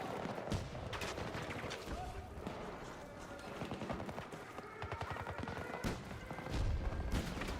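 Rapid gunfire from Battlefield Royale, bursts of automatic shots and thuds crackling through the game mix, fairly loud and continuous across the stretch.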